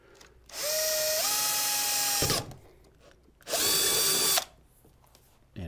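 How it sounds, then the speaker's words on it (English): A power drill whirs loudly in two short bursts while marking holes for a Coosa FD booneDOX landing gear install, its pitch rising as it spins up, with a brief pause between them. "Just drill enough to get a little bit of a mark there."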